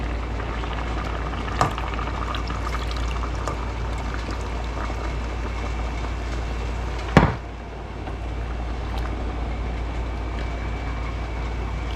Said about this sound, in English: we're going to add that into our pears that we have separated from the syrup